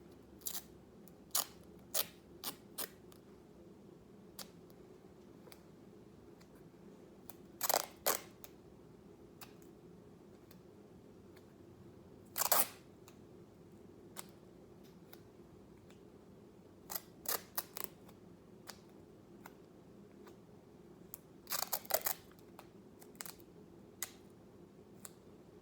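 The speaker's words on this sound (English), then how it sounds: "I'm going to go ahead and pull 4 or 5 pieces of tape." Pieces of tape pulled off a roll while preparing for an IV start, heard as sharp brief rips and clicks, some in quick clusters, separated by quiet pauses, close and otherwise silent.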